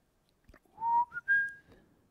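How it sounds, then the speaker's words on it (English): A person whistles a short rising three-note phrase in a quiet woodturning workshop, the tones clear and close with a faint knock just before. "Yes, the whistling helps."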